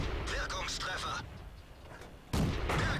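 Loud gunfire-like blasts from World of Tanks on the Himmelsdorf map, a heavy tank cannon shot booming near the end, with talk over the first half.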